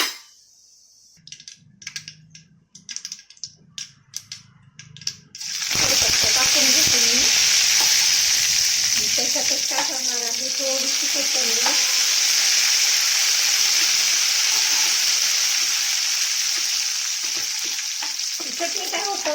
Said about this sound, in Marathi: थोडस तेल टाकून घेते मी अर्धा चमचा काय केलंय मी जिरी आणि मोहरी टाकून घेतली